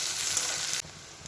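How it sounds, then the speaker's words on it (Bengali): Chopped capsicum hitting hot oil in a pan with onions for ghugni, giving a loud, steady broadband sizzle that drops abruptly to a quieter frying hiss partway through. "এবার এই কুচিয়ে রাখা ক্যাপসিকামগুলো তেলের মধ্যে দিয়ে"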